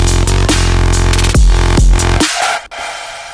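A dubstep drop hits loud and dense, with heavy distorted bass and sharp rhythmic chops before the low end suddenly drops away.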